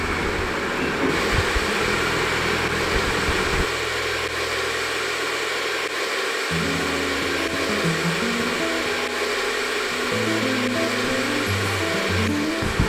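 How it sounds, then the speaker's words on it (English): Electric whisk churning cream into butter, a steady motor whir that shifts pitch midway and turns choppier as the fat clumps, running loud and close throughout with no talk. "So we will whisk it one more until the fat get clustered into one ball"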